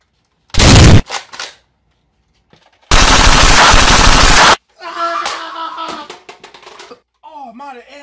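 Rapid rifle gunfire rattles out in two loud automatic bursts, a brief one and then a sustained stream of shots lasting over a second, with animated voices calling out right afterward.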